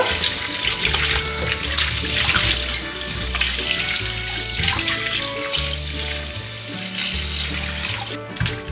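Vegetables for pav bhaji are rinsed under a running kitchen tap, water splashing steadily into a sink with shifting gurgles and clunks as items are handled, loud and close without speech.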